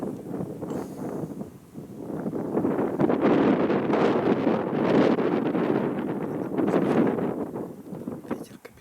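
Strong, gusty wind batters an outdoor field where hay windrows are being scattered, roaring steadily and building into loud sustained buffeting against the microphone for most of the clip.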